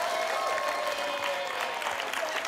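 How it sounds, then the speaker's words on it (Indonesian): Applause from an audience for a kindergarten marching band on a children's talent show, a dense, steady wash of clapping filling the whole short stretch at even loudness. "Tepuk tangan dong untuk TK Anissa."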